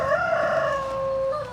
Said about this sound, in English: This is one of our OG hens right here.